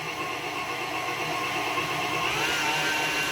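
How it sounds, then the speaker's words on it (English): An electric mixer runs steadily, beating butter into shepherd's pie ingredients in a bowl, a continuous close whirring motor drone that holds level throughout with no pauses and no voices. "got the mixer going now"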